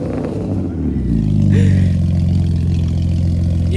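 A BMW E36 engine rumbling close by on a cold start, swelling into a rev and settling back to a rough, throbbing idle.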